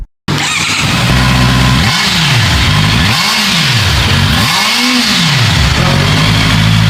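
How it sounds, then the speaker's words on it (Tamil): A loud Honda CB650R inline-four motorcycle engine revving hard in three rising-and-falling bursts over a steady roaring exhaust drone, close by. "இன்லைன் 4 எப்படி எக்ஸாஸ்ட் நோட் கேட்காம இருக்க முடியும்?"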